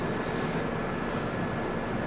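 Venkatadri SF Express passenger train pulling out of Shadnagar station, a steady low rumble and rolling roar of the carriages heard from onboard, constant and moderately loud with no talk.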